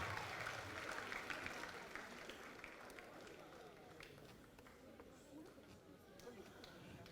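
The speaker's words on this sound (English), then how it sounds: "Another round of applause for the Ministry of Women, Children and Social Protection" Audience applause at a Civil Service Day award ceremony, honouring the Ministry of Women, Children and Social Protection. Steady clapping and crowd murmur fill the hall, dense at first and gradually thinning.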